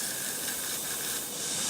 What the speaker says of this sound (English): I'll suck out as much fuel as I can and try and get some of that deposit out.